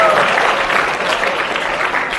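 Lecture audience applauding, a dense, even wash of clapping from a full room that holds steady throughout.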